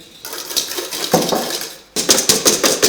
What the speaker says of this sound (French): Je vais fouetter les blancs d'œufs en neige, sans tout casser.